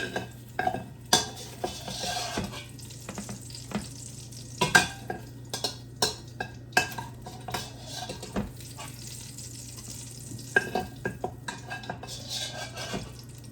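Sausage frying in a pan while being stirred, with a continuous low sizzle and repeated sharp clanks and scrapes of a utensil against the pan, close and alone.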